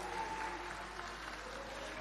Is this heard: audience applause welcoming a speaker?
yes